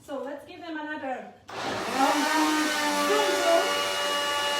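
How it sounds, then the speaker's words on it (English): Kitchen blender whirring through strawberries for a keto marmalade, a loud steady high-pitched motor whine that starts abruptly after someone speaks briefly, then runs on continuously. "I really didn't want you to hear this awful sound of our blender, but I really need to blend a little bit more those strawberries"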